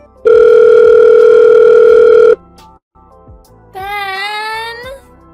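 A telephone call tone sounds loudly and steadily for about two seconds, followed after a pause by a wavering electronic ring tone, with no talking.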